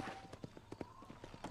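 Horse hooves clopping in a steady galloping rhythm during a ride in the video game Red Dead Redemption, moderately close, with a faint tone and soft background game ambience underneath.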